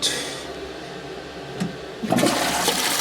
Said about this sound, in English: So this is a German-style toilet. It has, so when you flush it